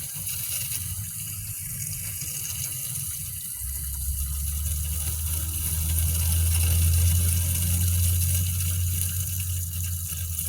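Water from a garden hose runs steadily through a car engine's cooling system during a coolant flush, pouring and gushing in a continuous stream that grows fuller and louder partway through.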